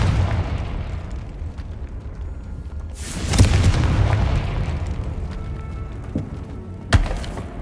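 Confringo fire spell from Hogwarts Legacy on hard difficulty, erupting as a loud explosive burst around the middle of a rumbling combat scene, followed later by a second sharp crack, with no voices.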